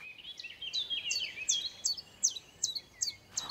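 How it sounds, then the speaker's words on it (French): Common chiffchaff singing near a hiking trail on the Puy de Côme, a faint series of about ten evenly spaced, high two-note chirps repeating in a steady rhythm over quiet background. "On entend notamment là le pouillot véloce juste à côté."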